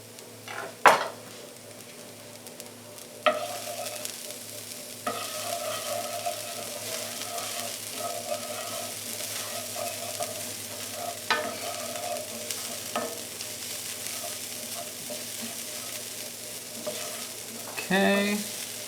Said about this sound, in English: Now is a good time to add the garlic. And like with any sauteing of garlic and onion, we'll probably give this about 30 seconds to a minute